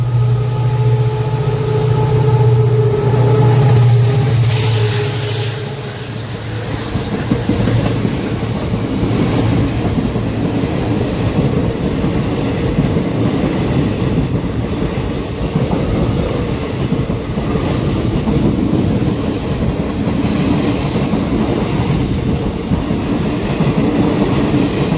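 Sabroom–Sealdah Kanchanjunga Express passing a Tripura local train at a crossing, a loud steady rumble of wheels and carriages with rhythmic clatter and a brief high whine early on, continuous throughout.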